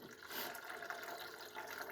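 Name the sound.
pouring apple cider vinegar into Kawasaki KZ1000P fuel tank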